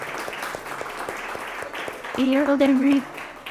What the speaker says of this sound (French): Vous pouvez les applaudir, vous avez raison.